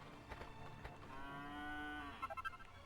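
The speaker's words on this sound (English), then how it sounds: "Cow." A cow moos once in Dragon Quest 8 on the PS2: a long, clear, drawn-out bellow that rises and falls, close and loud over quiet game ambience, with brief chiming game effects just after.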